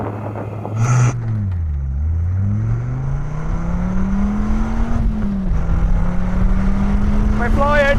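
A Dodge Viper weighing 1,490 kg accelerates hard from a standstill toward 60 mph, its engine rising steadily in pitch through the gears with a brief shift dip, loud and close throughout.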